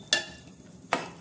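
Brinjal curry being stirred in a pan, two short scraping stirs about a second apart with a light sizzle between, close and fairly quiet.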